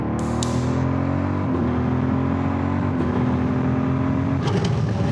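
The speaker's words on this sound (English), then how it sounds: "here we are out on the road on my now newly, temporarily, road-legal Spanish motorbike" A motorbike with temporary Spanish plates rides along a road in Spain, its engine droning steadily at close range with wind rush and a few small shifts in pitch, no talk.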